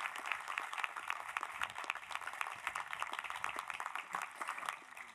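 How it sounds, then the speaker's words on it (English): Distant, steady applause from a commencement audience, a dense patter of many hands clapping throughout, fairly faint and even. "can we have one more round of applause for Deborah Bial?"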